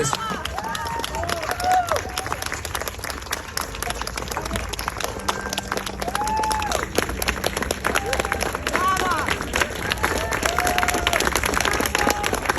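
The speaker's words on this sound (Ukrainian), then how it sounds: "Ваші оплески, перекривайте" A festival crowd applauds at Chervona Ruta in Lviv with a continuous wash of clapping. Scattered whistles and shouts rise through the noise, and the applause stays loud and even for over twelve seconds.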